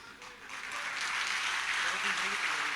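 Audience applause at a Hindi comic poetry recital, a broad steady wash of clapping that builds within the first second and holds loud and sustained to the end, with no voice over it.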